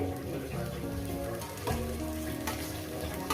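Fenugreek greens frying in a pan, a steady close sizzle and crackle running throughout with light stirring scrapes.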